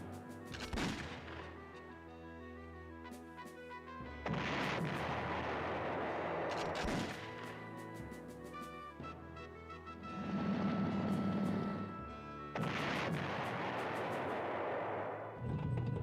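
Artillery fire in the PlayStation 1 war strategy game Panzer General, with several heavy, booming game blasts at intervals over a continuous musical or ambient backdrop, loud and without speech.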